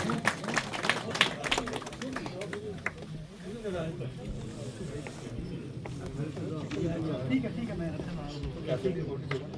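Audience applause at the Etihad Pigeon Tournament Birmingham 2024 prize giving, a burst of scattered clapping at the start that soon fades beneath someone talking over a crowd.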